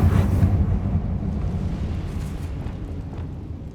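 A Confringo spell explodes in Hogwarts Legacy: a loud, deep blast that rumbles at the start and then fades slowly over a few seconds.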